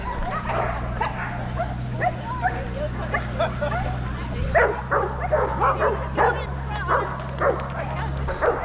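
Several dogs bark and yip excitedly in quick, repeated bursts over a steady low hum, with people talking among them, before the start of a canicross race.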